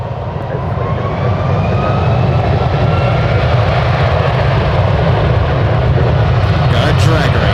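Airliners taking off at San Francisco International Airport: a loud, continuous roar of engines that rises steadily and holds, heard from a fair distance and with no voices over it.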